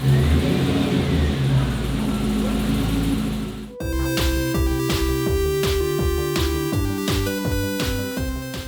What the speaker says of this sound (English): Ready to go, so fire it up, James.